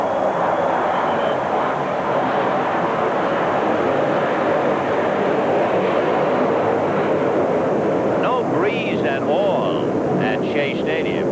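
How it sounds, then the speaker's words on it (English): Airliner climbing out after takeoff from LaGuardia over Shea Stadium, a loud steady broadband roar filling the whole stretch, with brief chirpy sounds near the end. "the airplane's taking off from LaGuardia, going right over the top of the ballpark"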